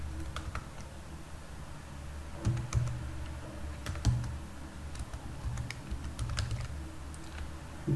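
Code is typed on a computer keyboard in quick, uneven runs of close, clear key clicks, with short pauses between bursts, and no voice in the clip.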